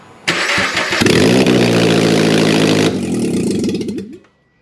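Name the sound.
car engine starting with aftermarket exhaust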